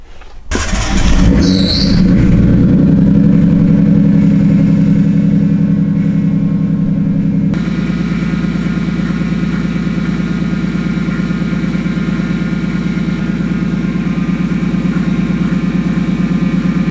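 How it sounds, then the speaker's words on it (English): A big-turbo Nissan Skyline engine cranks, catches and settles into a loud, steady idle, with a constant whine from its noisy power steering droning underneath, close up and with no voices. "Power steering's noisy, doesn't want to bleed out for some reason"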